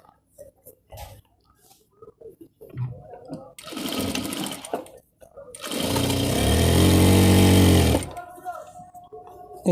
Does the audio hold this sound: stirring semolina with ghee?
no